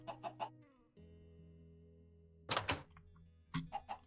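Minecraft chickens in the StoneBlock modpack cluck in short bursts at the start, midway and at the end, with a soft thunk and a low in-game hum between them and no speech.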